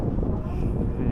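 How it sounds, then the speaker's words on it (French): Strong wind buffeting the microphone outdoors in Japan, a loud continuous low rumble that fills the whole stretch. "Il y a beaucoup de vent."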